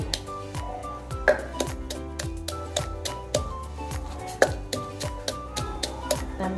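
Coriander root and garlic pounded in a mortar, with steady repeated thuds of the pestle at a regular rhythm, up close and alone.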